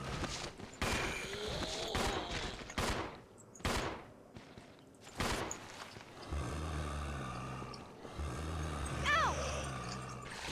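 Rapid gunfire from a Resident Evil 0 HD Remaster playthrough, shots aimed at enemies: loud, sharp bursts come in uneven clusters over the first half, then give way to a denser, steadier rumble of game noise.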